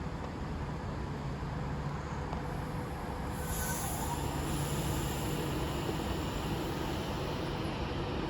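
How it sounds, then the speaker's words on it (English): Avanti West Coast train at Milton Keynes Central on the West Coast Main Line, a steady loud rumble of rolling wheels and traction with a brief high squeal partway through, continuous with no talk. "Soon to depart now will be the 1215 Avanti West Coast service from London Euston to Liverpool Line Street."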